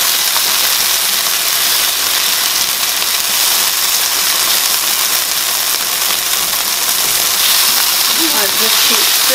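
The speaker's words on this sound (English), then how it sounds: "brown out the onion a bit" Onion browning in a hot pan produces a continuous, even hiss of frying that stays steady and fairly loud throughout with no clear breaks.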